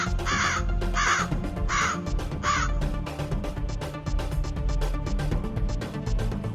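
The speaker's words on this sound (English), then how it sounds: "many crows started coming down to peck at them all" Flock of crows cawing in an animated children's story, several harsh repeated caws in a steady rhythm over a loud, busy background of music and effects.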